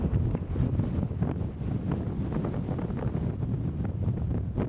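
Blizzard wind drives blowing snow in a constant roaring buffet that batters the microphone with loud low rumbles, gusting without pause.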